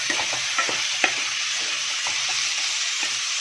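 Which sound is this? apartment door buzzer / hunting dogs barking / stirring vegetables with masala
stirring vegetables with masala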